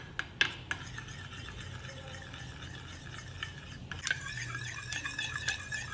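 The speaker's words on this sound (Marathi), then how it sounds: "चांगलं फेटून घ्यायचं आहे" Curd being whisked with salt in a bowl, giving close, repeated scraping and clinking of a utensil against the bowl, with a few sharper knocks early on and a busier stirring rhythm toward the end.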